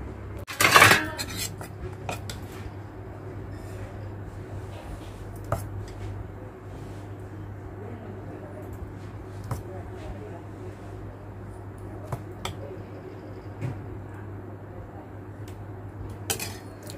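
A spoon scoops idli batter into an idli plate, giving one loud metallic clatter early on, then scattered light clinks and taps of metal on metal over a low steady hum.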